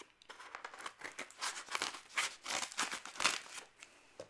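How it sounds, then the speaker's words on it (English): Close crinkling and snipping as scissors cut through the plastic packaging of a vinyl record, a run of irregular crackly bursts with no talking. "Scissors again."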